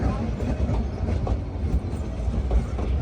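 A meter gauge train pulls out of Sasan Gir station, wheels clattering over rail joints in a steady rumble that fills the carriage, close and continuous with no voices on top.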